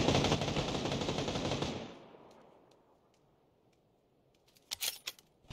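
Rapid automatic gunfire from a shooting video game rattles loudly for about two seconds, then cuts away to near silence before a few sharp, brief shots and clicks near the end.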